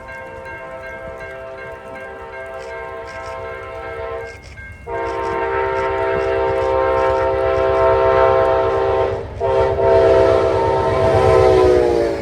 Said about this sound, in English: that's Amtrak 64, the Maple Leaf, from Toronto, Ontario to Penn Station in New York City